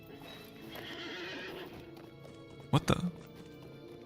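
A horse in a video game gives a sharp whinny mixed with quick hoof clops, a loud brief burst near the end after quieter ambience, and a voice reacts in surprise.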